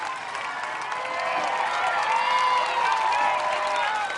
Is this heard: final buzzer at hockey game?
no